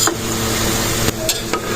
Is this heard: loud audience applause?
no